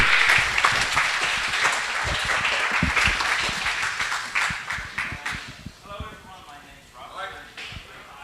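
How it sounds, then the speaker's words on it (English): Applause from an audience at a lockpicking presentation, dense clapping loud at first and slowly thinning out as a voice begins talking over the fading claps. "Round of applause, please"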